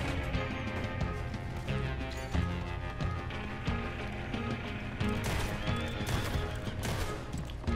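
Horse neighing and clattering hooves in a video game, dense and loud with crashing effects, no talk over it.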